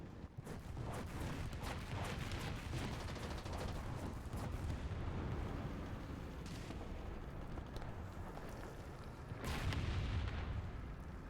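Tank guns fire in a World War II video game with Panzers and a Soviet T-34, a dense barrage of booms and cracks with rumbling, and a heavier blast near the end.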